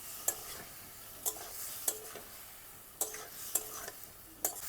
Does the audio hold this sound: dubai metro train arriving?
no